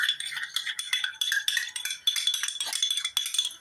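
A spoon clinks and scrapes against a bowl in quick, irregular strokes while bicarbonate of soda is stirred into a mixture for crispy puff pastry, close and fairly loud, with no talk.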